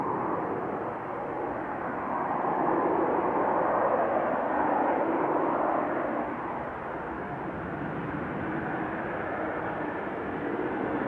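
Ryanair airliner arriving from Alicante at Manchester Airport, a broad steady jet roar that stays loud throughout, swelling slightly mid-pass then holding level with no talk.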